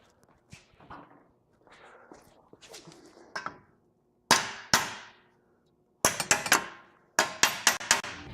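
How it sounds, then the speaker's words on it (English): Hammer blows ring out against a vehicle's axle shaft U-joint, starting with softer taps and building to sharp, loud metallic strikes that come singly and then in quick clustered bursts. "Okay, so now I grab that hammer."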